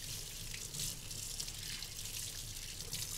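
Water runs from a sink faucet while hands are rinsed, a soft, steady splashing hiss with slight fluctuations as the stream hits skin and basin, fairly quiet and alone.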